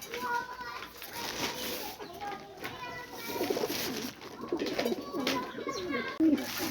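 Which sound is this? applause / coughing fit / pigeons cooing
pigeons cooing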